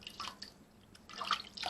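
Water from a bowl is splashed onto a face in soft, close bursts of dripping and splashing, with a brief lull between the first splashes and a fuller wet sloshing near the end.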